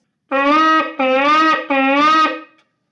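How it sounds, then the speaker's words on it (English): Three sustained shofar blasts (shevarim, three shorter blasts), each about half a second, close and loud, with short gaps between them and a tapering finish. "The next one is called Shvarim. That's 3 shorter blasts"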